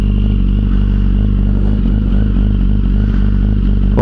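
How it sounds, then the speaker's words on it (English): A 2008 Yamaha R1 motorcycle engine running close by, a loud steady idle with a dense rhythmic mechanical thrum and light clattery texture, unbroken throughout. "I'll turn the engine off"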